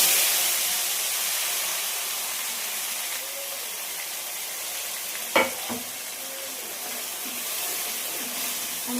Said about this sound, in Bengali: এবার গোটা গরম মশলা, শুকনো লঙ্কা আর জিরে ফোড়ন দিয়ে দেবো।